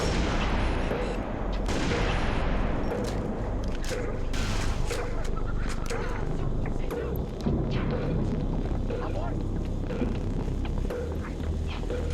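Gunfire in Halo Reach comes as a continuous dense clatter of shots and impacts. It stays loud and unbroken throughout, set against a thick wash of battle noise.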